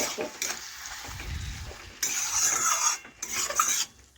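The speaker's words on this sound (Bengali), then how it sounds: "এখন বাঁধাকপি নাড়াচাড়া করে মশলার সাথে ভালোভাবে আবার একটু কষে নিচ্ছি।" Cabbage is stirred and fried with spices in a pan, a spatula scraping and rasping in bursts, close and fairly loud, with a quieter pause between stirring passes.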